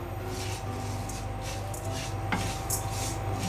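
Rice dry-roasting in a pan over low heat, a steady soft scraping and rustling as the grains are stirred, continuous and close with a faint underlying hum, no talking.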